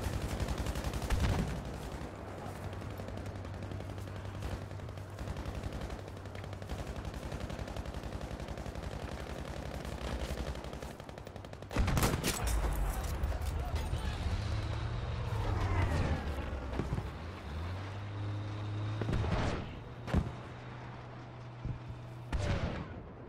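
Battlefield V gunfire crackles throughout: dense bursts of automatic fire and sharp distant shots over a steady rumble, with a few louder close reports around the middle, and a person talking at times.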